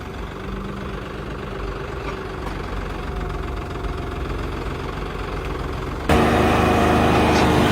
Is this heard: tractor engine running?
yes